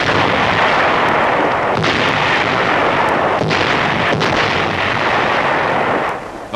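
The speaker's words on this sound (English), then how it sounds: "The Yanks promptly point them toward Germany." Heavy captured German Krupp artillery guns in wartime Europe firing shells toward Germany, a sustained loud barrage of booming blasts and rumbling detonations with no talking.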